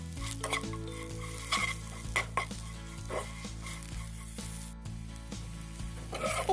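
Ridge gourd peels sizzle in a hot pan while a spatula stirs and scrapes them, bright frying crackle with repeated clinks and scrapes of utensil against metal, close and continuous.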